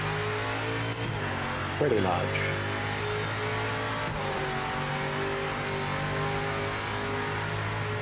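A race car engine in the racing game Project Motor Racing holds a steady droning note with slight pitch shifts and a brief tire squeal, heard under someone talking.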